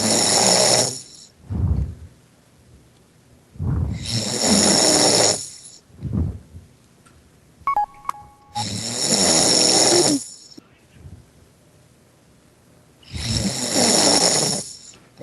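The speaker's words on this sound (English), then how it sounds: "Snore." A person snores loudly over a Skype call, four long rasping snores spaced every few seconds with quiet breaths between, plus a brief electronic blip midway.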